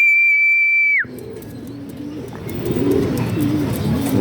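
Racing pigeons coo softly in low, rolling murmurs nearby, following a sharp sustained whistle that cuts off abruptly, with faint rustling and background noise.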